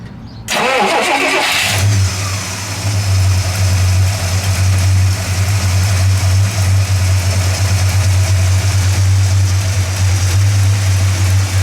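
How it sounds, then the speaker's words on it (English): A 1958 DeSoto Adventurer coupe's 361 cubic inch V8 cranks briefly and catches, then settles into a loud, steady, throaty idle through modified mufflers, heard close up with no talk. "Let's fire it up, shall we?"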